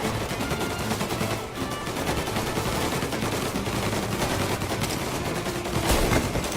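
Gunfire from the video game Mafia Definitive Edition, a remake of Mafia 1, in a dense, continuous barrage of shots that stays loud and steady for several seconds, with a slightly heavier burst near the end.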